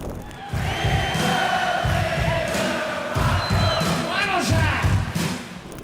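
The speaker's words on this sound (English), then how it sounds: "Now everyone knows this stomp stomp clap rhythm" A rock song with its famous stomp-stomp-clap beat pounding in repeated heavy thumps and claps, backed by crowd-like shouting and chanting.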